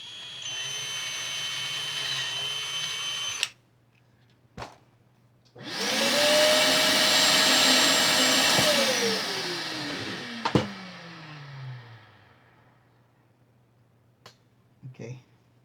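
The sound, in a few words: drilling with a drill bit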